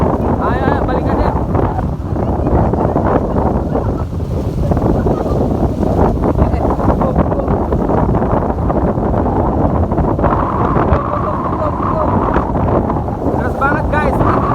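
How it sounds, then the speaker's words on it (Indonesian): Strong wind at a beach roars and buffets the microphone continuously, loud and close, with surf rumbling underneath and voices half-buried in the gusts. "Deras sekali anginnya nih."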